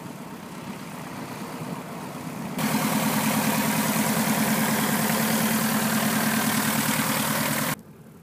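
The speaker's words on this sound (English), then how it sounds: "AOPA Sweepstakes Super Cub 954 Papa Charlie taxis out for its first test flight." An AOPA Sweepstakes Super Cub airplane taxiing out in cold, light-breeze conditions in Baker, Montana, its engine idling with a steady droning hum that grows louder partway through, holds steady, then cuts down near the end.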